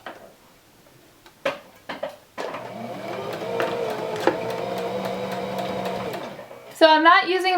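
A sewing machine top-stitches a weightlifting wrist wrap close to the fabric edge, running steadily for several seconds after a few short taps and clicks, with a brief burst of another sound near the end.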